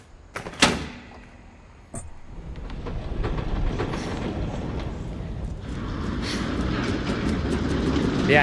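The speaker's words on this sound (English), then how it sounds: "Sounds like a train." A train passes in the video game What Remains of Edith Finch: a sharp clank, then a steady rumbling roar that builds and holds, loud and close, with no talking.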